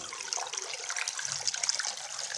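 Water splashes and trickles as it is poured into a pressure cooker, a bright, fizzy gurgling stream that runs steadily for a couple of seconds.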